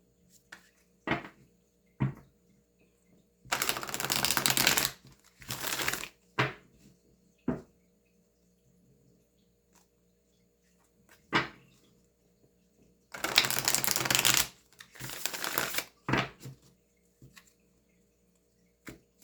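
Large, slippery tarot cards being shuffled and handled on a table, with two long bursts of riffling and scattered clicks and taps of cards in between, close and fairly quiet; no talking.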